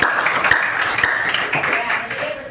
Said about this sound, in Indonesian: Tepuk tangan untuk Rizky